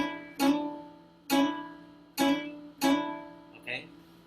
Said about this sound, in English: Hammer on is when you play one thing and you simply move the finger to the note you want to play